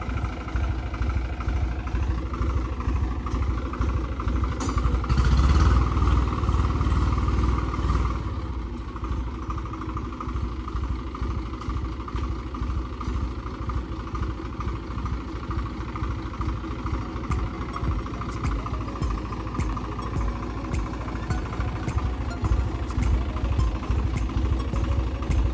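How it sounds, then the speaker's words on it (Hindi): A tractor engine idles and rumbles steadily while reversing in a farm field, a continuous mid-pitched diesel clatter with a brief louder surge early on and no talking. "तो अभी ट्रैक्टर आ रहा है रिवर्स"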